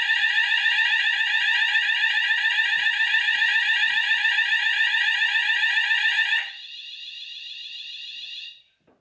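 A Notifier/Hochiki ESP fire alarm system sounds loud and steady after a detector is tested with spray, a continuous pulsing electronic tone that drops to a quieter, thinner tone for a couple of seconds before cutting off.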